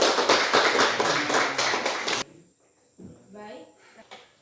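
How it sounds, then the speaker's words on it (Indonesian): A classroom of students claps together in a brief, loud burst of applause that stops abruptly. Quiet talking follows after a short pause. "Tepuk tangan."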